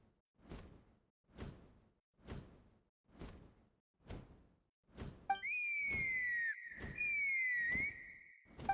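A sliding whistle in a video game sounds over repeated rhythmic whooshing beats, rising and falling in pitch for a few seconds, clear and alone.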